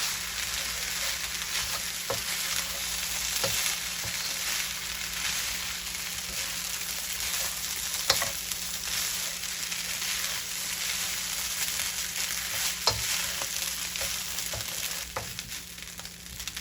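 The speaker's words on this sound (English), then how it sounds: "A little bit of coconut milk. Go ahead and stir." Turmeric rice is stirred in a pan as a little coconut milk is mixed in, giving a soft, steady sizzle and faint scraping at low volume, with a few light clicks and no talking.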